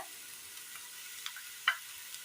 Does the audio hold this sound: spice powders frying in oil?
yes